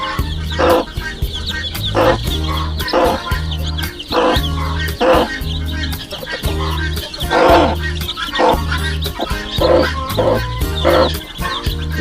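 Domestic hens from a mixed flock cluck repeatedly and loudly at close range, short rhythmic calls coming in irregular bursts throughout.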